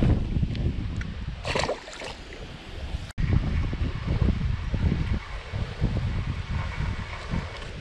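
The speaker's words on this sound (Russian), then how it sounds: "Ветер, ветер." Wind buffets the microphone at a carp fishing pond. It makes uneven rumbling gusts that rise and fall for the whole stretch, with a short rustle early on and a brief dropout partway through.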